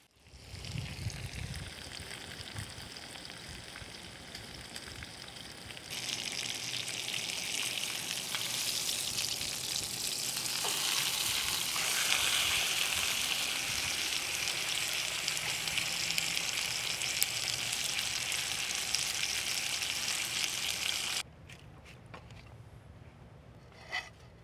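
Food searing in an uncovered pan at a campsite makes a long, steady, close sizzle that swells and holds, then drops to a quieter hiss near the end.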